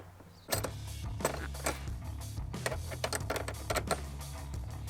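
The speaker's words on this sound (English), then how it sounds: "Now you're gonna need to tighten down this nut with the" A wrench tightens a nut on a Tusk UTV/ATV flag quick connector on a Polaris RZR, making a quick run of close, sharp ratcheting clicks and small metallic taps in an irregular rhythm.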